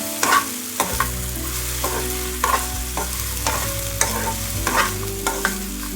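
Okra (bhindi) half-fries on a low flame for a crispy side dish, with a continuous soft sizzle and regular scraping stirs of a spatula in the pan, close and fairly loud, with no talking.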